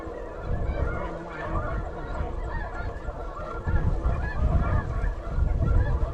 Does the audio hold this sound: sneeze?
no